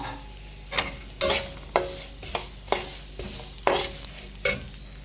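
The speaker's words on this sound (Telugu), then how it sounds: "మనము తీసుకున్న సేమియా అయితే వేసి కాసేపు అలా వేయించాలి" Vermicelli frying in hot oil in a pan for semiya payasam, with a steady sizzle and repeated sharp scrapes of the stirring spoon at an irregular rhythm, close and alone.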